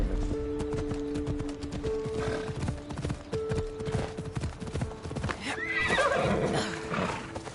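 A horse in Assassin's Creed Odyssey whinnies loudly amid steady clip-clop hoofbeats, with a second higher neigh near the end.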